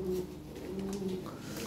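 Blue bar pigeons at a pigeon fair coo in low, soft, rolling calls, faint and close amid a busy background murmur.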